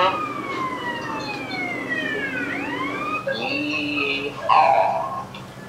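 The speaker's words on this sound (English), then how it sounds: "Turn on the siren now." A police car siren in the video game Grand Theft Auto: San Andreas wails in long rising and falling sweeps, loud and steady over the engine and game noise, then switches to a faster yelp near the end.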